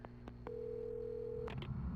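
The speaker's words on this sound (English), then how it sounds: "A phone." A telephone in the Alan Wake video game gives a short electronic tone held for about a second, framed by a few soft clicks and followed by a muffled rustle, faint and alone.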